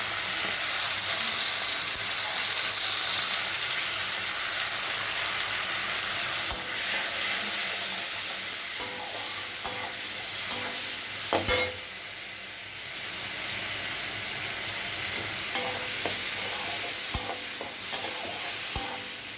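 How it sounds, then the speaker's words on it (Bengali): Prawns seasoned with salt and turmeric fry in hot oil in a pan, giving a continuous loud sizzle and hiss with occasional spatula scrapes and knocks against the pan. "চিংড়ি মাছটা ভাজা হচ্ছে।"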